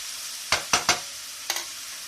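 Mushrooms sautéing in oil in a pan for a creamy pasta give a soft sizzle under three quick spoon scrapes and stirs, then a fainter fourth.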